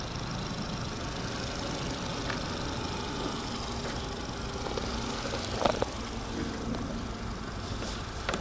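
A 2011 Renault Grand Modus 1.2 TCe 100 petrol engine idles at close range, a quiet, even, steady hum that holds unchanged for the whole stretch, with a faint tick or two near the middle.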